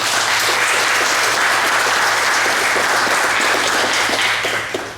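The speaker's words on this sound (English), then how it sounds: "Give them a round of applause if you would." School moving-up ceremony audience giving the staff and teachers a round of applause, a dense, loud, continuous clapping from a large crowd that holds steady then begins to fade at the end.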